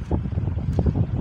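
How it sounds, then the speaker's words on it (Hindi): The Siran river flowing near Nokot village in Mansehra, a steady broadband rush of water mixed with wind buffeting the microphone, continuous and fairly loud throughout. "आवाज़ तो आपको आ रही होगी दरिया की,"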